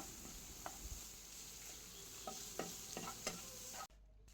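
Chicken frying in oil, heard as a steady close sizzle with a few light clicks and stirs, which cuts out abruptly near the end with no voices.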